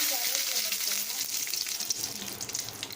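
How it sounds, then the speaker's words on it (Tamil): Mustard seeds, urad dal and chana dal frying in hot oil for a tomato-onion chutney, giving a steady, close sizzle with dense crackling throughout. "ஆயில் ஹீட் ஆனியும் கடுகு, உளுந்தம்பருப்பு, கடலைப்பருப்பு 3 போட்டுக்கோங்க."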